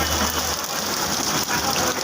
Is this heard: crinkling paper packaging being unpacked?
no